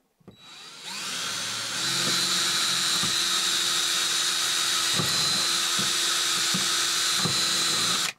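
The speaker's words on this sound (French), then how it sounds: "Je trace, je perce et go. Hop, je prends un forêt assez fin" A fine drill bit whines at high pitch through a camper van ceiling, starting up and running steadily and loud with a few small knocks before stopping abruptly.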